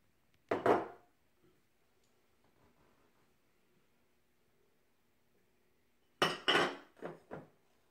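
Gluten-free meatloaf ingredients are combined in a bowl: a quick clatter of dish and utensil clinks, a long quiet stretch, then a second cluster of several sharp clinks and knocks close by.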